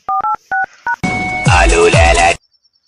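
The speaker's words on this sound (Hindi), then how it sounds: "अब तो एक ही सहारा है, शायद को फोन मिलाना" Telephone keypad tones from a cartoon phone, four short paired beeps in quick succession, followed by a longer burst of ringing or line noise, then silence.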